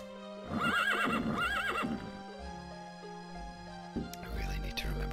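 Horse in the video game The Elder Scrolls: Daggerfall whinnies twice in shrill, quavering neighs, then hooves clip-clop in an even rhythm, fairly quiet, with game music tones underneath.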